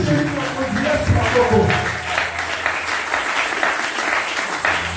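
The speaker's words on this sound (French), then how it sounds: "il faut acclamer glorieusement pour le roi Jésus" Church congregation breaking into loud applause and cheering for Jesus during a French-language service, a steady wash of clapping with voices mixed in.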